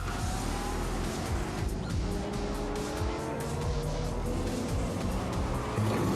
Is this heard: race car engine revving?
yes